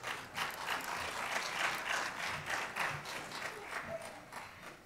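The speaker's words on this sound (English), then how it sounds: "let's clap for him" An audience at a conference claps steadily for about five seconds, the applause heard at a moderate distance and fairly faint.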